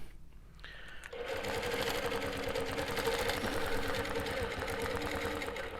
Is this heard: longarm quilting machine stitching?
yes